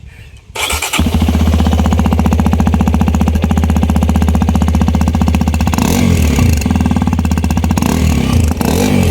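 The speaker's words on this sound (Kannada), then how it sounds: "ಈ ಬೈಕ್ನ ಎಕ್ಸಾಸ್ಟ್ ಯಾವ ರೀತಿ ಆದ ಅನ್ನೋದು ಟ್ರಾನ್ಸಾಕ್ಷನ್ ಮೂಲಕ ನಿಮ್ಗೆ ತೋರಿಸ್ದೆ ನೋಡ್ರಿ" A Hero XPulse 210 motorcycle engine starts, then idles loudly with a rapid, thumping exhaust pulse, close by, rising in a brief rev near the end.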